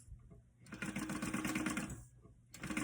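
A sewing machine bastes a zipper to a fabric pocket piece, running in a short fast whirring burst between quieter pauses, close and moderately loud.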